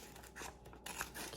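Scissors snipping through cardboard from a delivery box, a few close, quiet cutting strokes with brief pauses, no voices.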